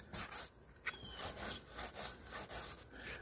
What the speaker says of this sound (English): I'm just kind of going over it a little bit with a sanding sponge.